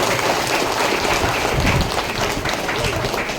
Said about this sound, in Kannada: ಜೋರಾಗಿ ಚಪ್ಪಾಳೆಯನ್ನು ತಟ್ಟಿ